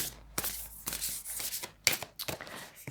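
Tarot cards being shuffled by hand during a reading: a series of crisp riffling and slapping bursts, quiet and close, with irregular pauses between shuffles.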